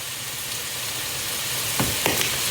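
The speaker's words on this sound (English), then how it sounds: "And let those get sauteed a minute." Chicken sautéing in a hot pan for a Mexican-style dish, a steady close-up sizzle and crackle throughout, with a couple of brief stirring scrapes near the end and no talking.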